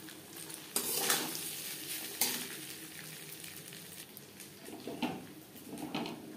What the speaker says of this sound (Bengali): আর নাড়তে থাকবো